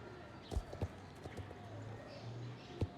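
Hooves of a Saddlebred horse clip-clop in Star Stable Online, a few distinct soft thuds at irregular intervals, faint and close, with no one speaking.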